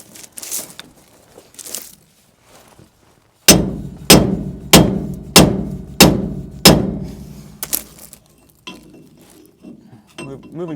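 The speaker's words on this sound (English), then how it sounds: "make sure I'm even hammering on the right edge" Hammer blows strike a Chevy 12-bolt posi differential in a truck, with about seven sharp metallic clanks in a steady rhythm after a few lighter taps, close and loud, with brief talk around them.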